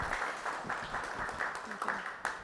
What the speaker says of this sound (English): can we please give another round of applause to both Philip and Robin?